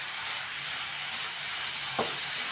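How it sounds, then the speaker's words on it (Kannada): Carrot halwa with sugar frying in a pan gives a steady, soft broadband sizzle throughout, with one brief scrape or clack near the end. "ಈ ಥರ ನಾವು ಸ್ವಲ್ಪ ಫ್ರೈ ಮಾಡ್ತಾಯಿದ್ದೀವಿ"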